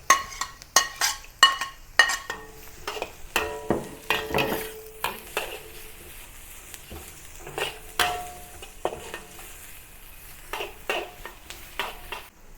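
Carrot being stir-fried in a pan for a Thai crispy tofu dish, with repeated scraping and clinking strokes of a utensil over a steady sizzle, close up and without talk.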